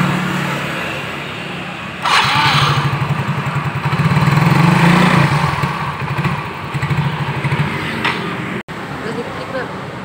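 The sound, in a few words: Yamaha Mio J motorcycle engine started and revved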